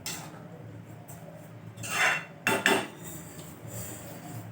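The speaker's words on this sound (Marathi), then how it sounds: "त्याला चांगलं असं हलवून घ्यायचं मिक्स करून घ्यायचं चांगलं शिजू द्यायचं हलवतच राहायचं" Carrot halwa being stirred in a pan over a full gas flame, faint background cooking noise with a couple of louder metal scraping and clinking strokes in the middle, no speech.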